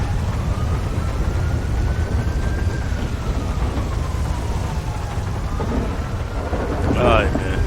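Heavy rain pours steadily through a stormy night in GTA V's LSPDFR police mode, a dense constant hiss with a low rumble beneath and a faint passing whine, continuous from start to end.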